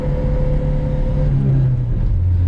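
Ford Versailles GL car engine running with the air conditioning on, a loud, close, steady low rumble whose pitch sags gradually over a couple of seconds as the revs drop.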